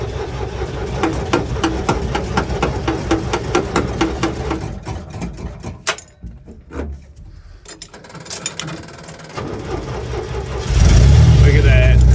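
A 1966 International Scout engine chugs with a rhythmic ticking idle, dips briefly under a voice, then surges into a loud, rough roar near the end.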